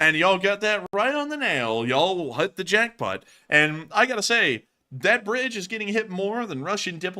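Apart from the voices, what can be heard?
No everyday noise stands out behind the speech.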